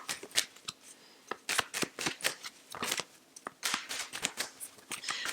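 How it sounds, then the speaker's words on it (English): Tarot cards are shuffled by hand close up, giving rapid bursts of crisp riffling and slapping, busy and uneven, with no talk over them. "just going to be shuffling these out until the first card falls or flips."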